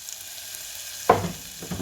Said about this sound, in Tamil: பெருஞ்சீரகம் அடுப்பில் வச்சு வதக்குறேன்